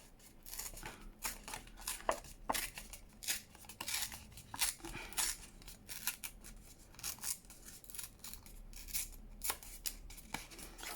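Paper is torn from a paper pad in a run of close, dense ripping and rustling bursts, with short gaps between strokes; no talk.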